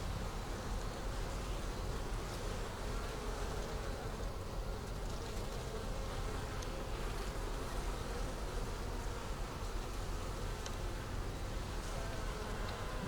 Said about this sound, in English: The bees might get upset